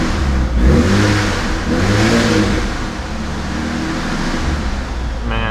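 A supercharged V6 Ford Mustang running E85 fuel, still cold, revs up close by in several loud rising pulls, with an intercooler whine and a steady heavy engine drone between throttle blips.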